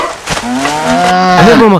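A cow moos loudly and close by in one long, drawn-out call that rises and bends in pitch before ending.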